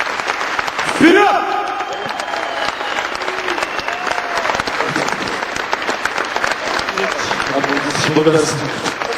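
A concert audience applauds a performance by a band: dense, steady clapping fills the whole stretch, while someone speaks over the crowd near the start.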